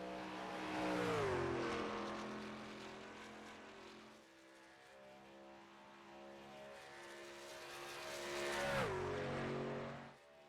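A race truck engine at Pocono Raceway roars past on track, its pitch rising and falling twice as it approaches and passes, loud and sustained with no talk.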